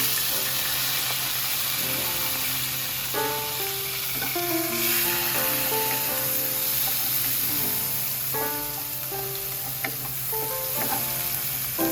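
Onion sautéing in hot oil for beef picadillo, a steady sizzle and fry holding throughout at even loudness, with occasional stirring and no talk; tonal musical notes run faintly underneath.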